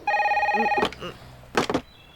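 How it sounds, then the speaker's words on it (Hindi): A telephone bell rings in a steady electronic trill for nearly a second, loud and close, then breaks off; a voice follows briefly with a short burst of noise. "जब भी इस फोन की घंटी बजती है मेरी घंटी बजने लगती है सर"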